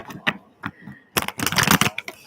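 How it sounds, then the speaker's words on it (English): Tarot cards being shuffled by hand, a few short riffling bursts followed by a longer, louder flurry of card flicks, close and crisp, with no talk. "I got one more shuffle"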